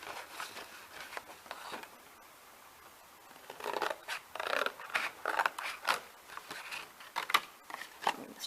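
Scissors trim paper for a bookmark in a run of quiet, close snips, sparse at first and then quicker and more clustered, each a short crisp cut with no talking.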